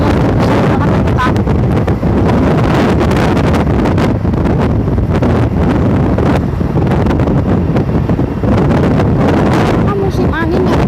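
Heavy wind buffets the microphone outdoors in Bukittinggi, Indonesia, with a constant low roar and rumbling gusts, nearly drowning out a voice that talks underneath.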